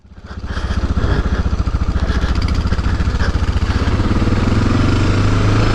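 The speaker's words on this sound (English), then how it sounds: "Look at us, we're riding dual sports." Dual sport motorcycles, a lowered Honda XR650L and a Suzuki DR650, riding off road, engine thumping in a fast steady pulse that builds in loudness and stays close and loud throughout.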